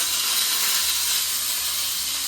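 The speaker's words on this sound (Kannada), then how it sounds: "ಇದನ್ನು ತೆಗೆದ್ಬಿಟ್ಟು ಎಣ್ಣೆ ಒಳಗೆ ಹಾಕಿ" Brinjal (eggplant) pieces for ennegayi palya fry in hot oil, making a loud, steady, close sizzling hiss that fills the whole stretch.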